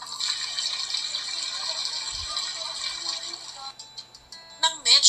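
Rice is rinsed under running water, with a steady hissing stream pouring close by for several seconds before it cuts off into brief splashing and handling noises at the end.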